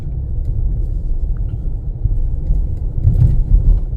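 A 2023 Nissan Pathfinder Rock Creek SUV pushes through deep sand, a heavy continuous low rumble of engine and drivetrain that swells slightly near the end, close with no voices.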